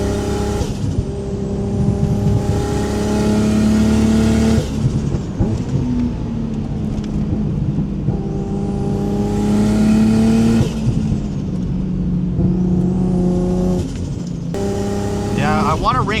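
Mazda RX-7 FD rotary engine revving while driving and misfiring a little up top, loud close drone climbing through long pulls with gear-change dips between them, and a voice talking over it.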